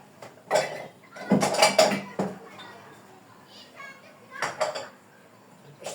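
Dishes and cutlery clatter in sharp bursts, with clinks and knocks between children's voices and chatter in the background.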